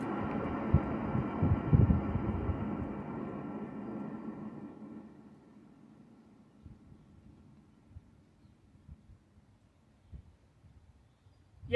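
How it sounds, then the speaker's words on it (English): A worn inner wheel bearing rumbles as a car hub is spun by hand with the caliper off, giving a low, gritty droning rumble that slowly fades as the hub coasts down, followed by faint clicks. "It spins good, but it's rumbling bad. So sounds like maybe the inner bearing."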